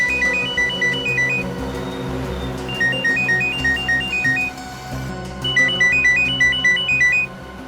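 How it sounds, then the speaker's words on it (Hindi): A phone ringtone plays a repeating bright electronic melody in bursts over low background music, loud and close. "फोन की घंटी बज रही है"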